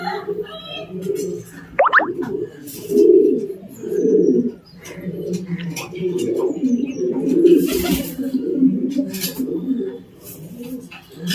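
Racing pigeons coo and murmur in soft repeated bursts after a long race, close by and fairly loud, with a brief chirp and some faint background noise.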